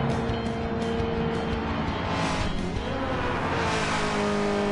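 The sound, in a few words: Supercars race car (Chevrolet Holden) engine at Bathurst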